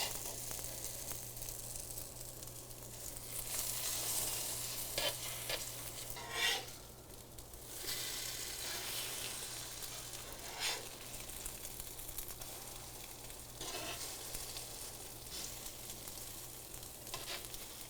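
Caramelized French toast fries in a pan on its second side, a steady close sizzle and hiss with a few soft scrapes and clinks from a utensil.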